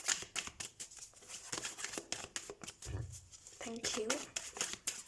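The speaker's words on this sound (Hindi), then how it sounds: "So will shuffle the cards." Tarot cards being shuffled by hand, soft rapid riffles and slides close to the mic, with a brief low thump partway through and faint voice-like tones near the end.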